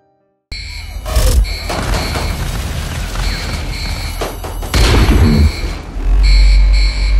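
Rapid bursts of Overwatch gunfire crackle and boom over a loud, dense battle din during a breakout sequence, with sharp volleys near the start and a heavy surge toward the end.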